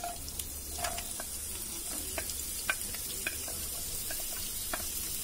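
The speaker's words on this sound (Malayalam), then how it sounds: "അതിലോട്ട് നമ്മൾ അരിഞ്ഞു വെച്ചേക്കുന്ന ചുവന്നുള്ളി ഇട്ട് കൊടുക്കാം." Chopped shallots fry in coconut oil in a pan, giving a steady close crackling sizzle with scattered sharp pops and occasional light stirring clicks throughout.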